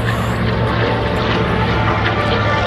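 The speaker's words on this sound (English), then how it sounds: "As the thunder of their engines fade into the distance" Blue Angels jets at an airshow in Rochester, New York roar with a loud, dense, continuous engine noise and a steady low drone, holding strong throughout rather than fading.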